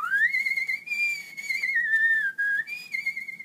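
A person whistles a sustained, wavering melody, clear and close, with no talking and nothing else audible.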